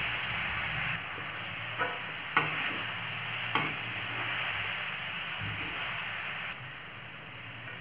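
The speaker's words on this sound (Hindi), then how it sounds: "बीच बीच में से चलाते रहिए ताकि ये नीचे लग ना जाए।" Gajar ka halwa, grated carrot cooking in a pan, gives a soft steady sizzle and hiss with a few sharp clicks and scrapes of a spoon stirring, quiet and close, the background dropping lower near the end.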